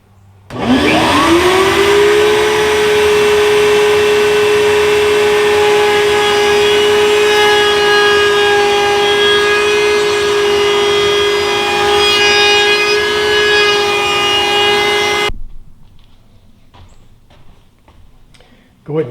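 Wood router cutting during a magazine rack restoration, a loud steady whine that spins up and holds close for about fifteen seconds before stopping abruptly, leaving quiet handling sounds.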